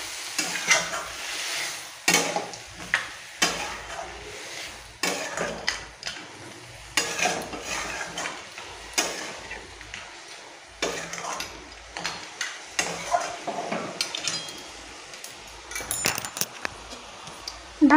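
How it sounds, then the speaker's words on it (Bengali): A spatula scrapes and clinks steadily in a pan, stirring rohu fish head with cabbage curry over a soft sizzle, in repeated rhythmic strokes close by. "ভালো করে নেড়ে চেড়ে এটা মিশিয়ে নেব।"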